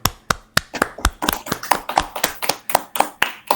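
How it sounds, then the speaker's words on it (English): An audience claps to welcome a speaker, a thin scatter of distinct hand claps at a steady, fairly quick pace. Few hands are heard, close and sharp, with no voices over them. "So I request everybody to clap for her so that we can welcome her in a very, very formal and cordial way."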